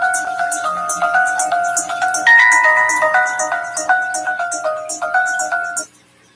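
A phone plays a melodic notification ringtone, a bright repeating tune of stacked tones that runs for several seconds, loud and close, then cuts off abruptly.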